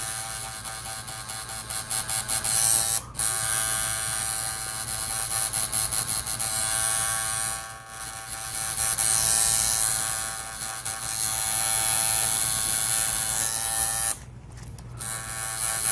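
A tattoo machine buzzing during portrait tattooing, a loud continuous electric hum close by with a couple of brief stops and slight changes in pitch as it works.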